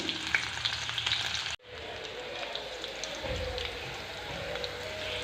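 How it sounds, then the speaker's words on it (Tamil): Onions sautéing in sesame oil for a spicy garlic curry, a close, steady frying hiss with a brief cut near the start before the sizzle resumes at an even level. "இந்த அளவுக்கு வெங்காயம் வதங்கினா போதும்"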